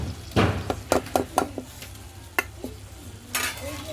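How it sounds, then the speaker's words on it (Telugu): Fresh amaranth leaves cook down in a pan over a wood-fired stove, with scattered sharp scrapes and clinks of a spoon stirring against the metal above a soft, steady sizzle. "తోటకూర ఉడుకుతుంది"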